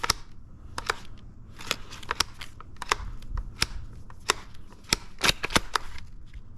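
Mechanical clicks and clacks from an airsoft bolt-action rifle's bolt being cycled, a rapid irregular series of sharp, close metallic snaps with no voices.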